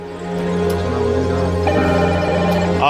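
A telephone rings loudly and steadily, its electronic tone continuing for a few seconds with no talking over it.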